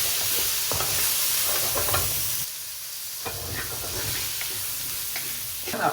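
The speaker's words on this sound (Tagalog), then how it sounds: "Ilalagay ko na po ang sibuyas at bawang." Onion and garlic dropped into hot oil in a pan with chicken gizzards, a loud, steady close-up hiss of frying with faint stirring scrapes, dipping briefly midway before the sizzle continues.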